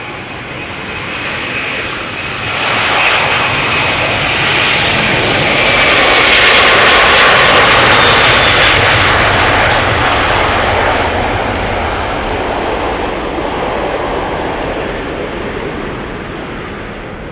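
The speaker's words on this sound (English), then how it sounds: "all those A330s that are passing by" A Delta Air Lines Airbus A330 jet passes by at Amsterdam Schiphol Airport, its engine roar rising steadily to a loud broad peak midway before slowly fading, with no voices.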